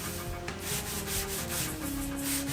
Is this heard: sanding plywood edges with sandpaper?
yes